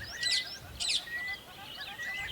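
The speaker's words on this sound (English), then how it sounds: "The bird chirped." A small bird gives a few bright, quick chirps and short trilling calls, fairly close, over faint background hiss with no talk.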